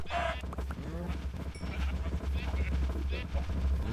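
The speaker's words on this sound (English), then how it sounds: "Move the sheep out of the way." Sheep bleat in a video game over a steady low hum. Several short bleats come through amid other game noise.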